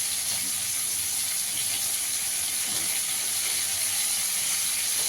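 A bay leaf and a dried chilli temper in hot oil, making a constant close hiss and sizzle that holds steady throughout, with no talk.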